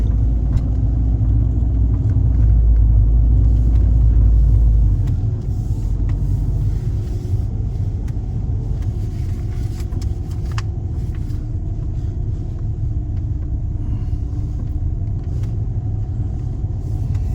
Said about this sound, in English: Driving down the end of the cul-de-sac.